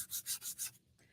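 Sandpaper scrubbing a wooden spring sign in four quick, even back-and-forth strokes, close and crisp, then stopping.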